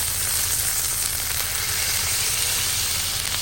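Burger patties sizzle steadily on a Blackstone flat-top griddle, a loud, continuous hiss of frying fat that holds without break throughout.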